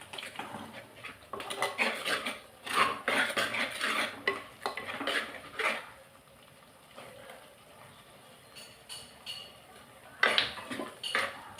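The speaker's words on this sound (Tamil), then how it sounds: "இந்த டப்பாவை கழுவி வைக்கணும்." A tin spice container being washed in a home kitchen, with clattering metal knocks and scrapes in irregular bursts, a quieter pause midway, then a few more clinks.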